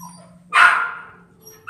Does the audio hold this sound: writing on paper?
no